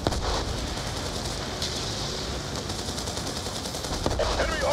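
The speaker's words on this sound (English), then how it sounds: "Bravo receiving effective enemy fire" Sustained automatic gunfire and rattling bursts erupt in a battle on a vehicle convoy in Call of Duty Black Ops 2, loud and continuous with dense crackling shots throughout.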